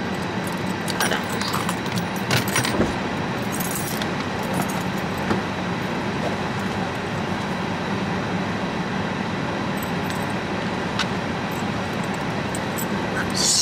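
Keys jangle in short metallic bursts early on, then scattered faint clinks follow over a steady rumbling background of traffic or train noise.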